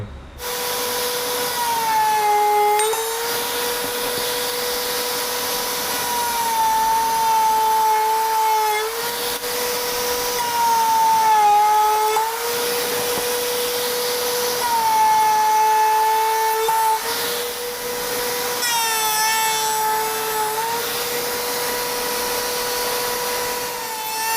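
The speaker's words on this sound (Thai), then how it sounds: "ถ้ามีเครื่องเจาะเหลี่ยมอะสะดวกเร็ว" A square hole mortising machine cuts into wood while shaping tenons, a loud steady motor whine with a grinding, scraping bite rising and easing in repeated passes about every few seconds, close and continuous with no talk.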